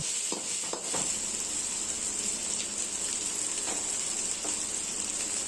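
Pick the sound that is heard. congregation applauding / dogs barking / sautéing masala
sautéing masala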